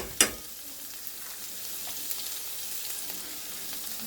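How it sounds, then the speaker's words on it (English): Sliced mushrooms and chopped onion frying in a skillet for chicken Florentine, opening with a sharp clack of a utensil, then a low, even sizzle with faint scattered crackles, nearby and quiet, no speech. "And we're going to add our mushrooms to the skillet."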